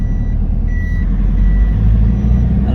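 Truck out on a road test, a loud close engine rumble with faint high tonal beeps over it, and no voices.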